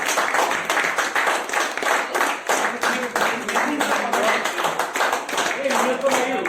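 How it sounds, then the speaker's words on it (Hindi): An audience clapping in a group session, sharp rhythmic claps repeating in a fairly regular beat with voices and cheering underneath, loud and continuous. "तालियां बजाओ"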